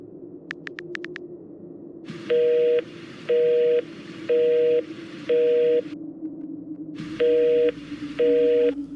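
A phone call that fails to connect: a rapid series of short dialing beeps, then a pause and six evenly spaced repeating busy-tone pulses, loud and clear over a steady low hum.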